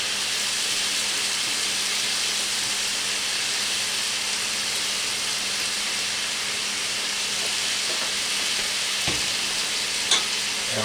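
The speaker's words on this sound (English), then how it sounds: "And of course, stir it up really good." Ground beef and flour being stirred in a hot skillet for a one-pot skillet beef mac and cheese, with a steady, loud sizzle throughout and a few faint scraping clicks near the end, no voices.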